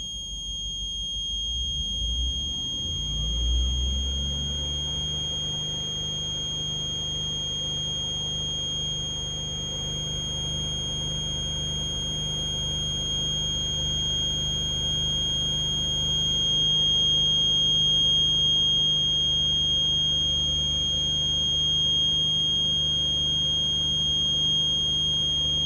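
A school bus's steady high-pitched low air pressure warning buzzer sounds continuously alongside the low idling engine rumble, persisting without pause throughout.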